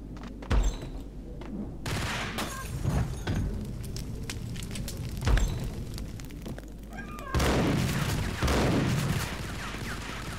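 Gunfire in the video game Max Payne, a run of sharp shots and heavy thumps scattered over ten seconds, some clustered in bursts, with busy game noise between them.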